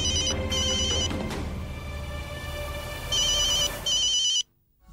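A telephone rings in repeated electronic bursts, loud and close, with pauses between rings before cutting off abruptly into near silence.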